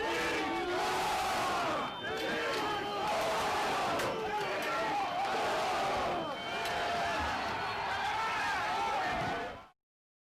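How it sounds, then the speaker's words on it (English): A large crowd of Trump supporters surging against police in front of the US Capitol: loud, dense shouting and chanting with scattered thuds and bangs, sustained and chaotic until it cuts off abruptly near the end. "a crowd of Trump supporters trying to trample the police in front"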